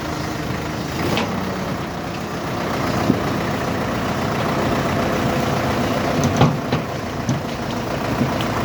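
A tow truck's engine idles steadily and fairly loud while a Solis 105 tractor is loaded onto it, a continuous low rumble with small knocks and clanks now and then and no voices.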